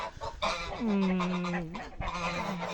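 Several geese honk and cackle close by, their loud nasal calls overlapping in a noisy flock.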